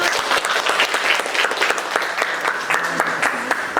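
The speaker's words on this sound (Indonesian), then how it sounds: "ya tepuk tangan" A classroom of students claps in unison, a dense burst of hand claps that stays steady and close for the whole short stretch, with a faint voice or two underneath.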